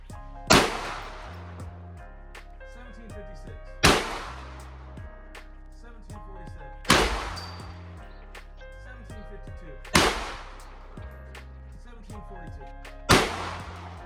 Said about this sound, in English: So that is the Ruger 44 Magnum firing Winchester Soft Point 44 Magnum.